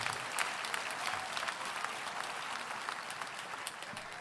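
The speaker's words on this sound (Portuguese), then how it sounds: "Isso, aplauda o Senhor." A church congregation applauds the Lord, a continuous, even roar of many hands clapping at a distance, fairly faint and unbroken.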